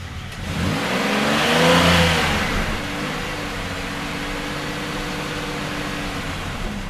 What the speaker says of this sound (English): I'm going to jump in, run it through all the gears, give it a little gas